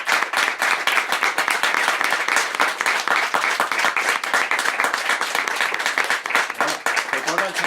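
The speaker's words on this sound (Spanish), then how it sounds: "O sea que todo el aplauso que le deis es para ella" An audience applauds at a book presentation, dense continuous clapping from many hands that carries on for several seconds, loud and close, with a voice briefly heard near the end.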